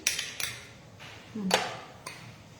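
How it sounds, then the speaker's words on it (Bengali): Paneer stuffing with capsicum being mixed in a bowl, giving a few sharp clinks and scrapes of a utensil against the bowl, fairly quiet and spaced out, with a voice faintly in the background. "এবার হচ্ছে খুব ভালো করে আমি এটা মেখে নিচ্ছি"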